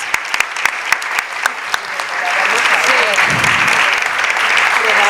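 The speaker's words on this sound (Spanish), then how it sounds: "le damos un fuerte aplauso a todas las compañeras" Audience applause at a Ni Una Menos talk with Mónica Macha, Dora Barrancos and Verónica Gago, starting as scattered sharp claps and swelling into steady, dense clapping that fills the room for several seconds, with a voice briefly audible.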